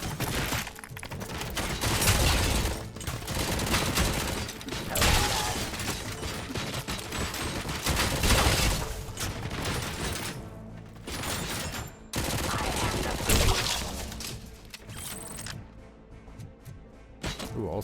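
Rapid bursts of micro SMG fire in a shooter video game, dense and loud throughout with brief pauses between volleys, thuds mixed in, and no talking.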